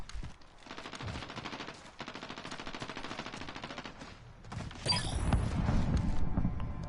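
Rapid automatic gunfire rattles in Call of Duty beta multiplayer, with sustained bursts followed by a heavier, louder barrage and mechanical clatter near the end.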